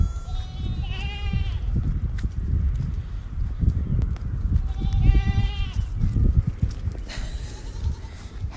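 A baby goat out past its fence on a muddy farm gives two clear, wavering bleats several seconds apart, close to the microphone, over steady outdoor background noise.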